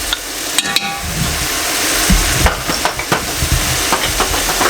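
Green chili paste fries and sizzles loudly in a pan with mutton, with constant frying hiss and scattered scraping clinks as the mixture is stirred, close and alone.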